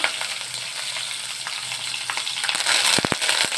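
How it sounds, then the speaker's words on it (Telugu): Green chilies, dried red chilies and curry leaves fry in hot oil with a dense, close crackling sizzle, broken near the end by a few sharp stirring knocks. "కొంచెం కరివేపాకు ఇవన్నీ ఒక రెండు నిమిషాలు ఫ్రై అయ్యేంత వరకు వేయించుకోవాలి"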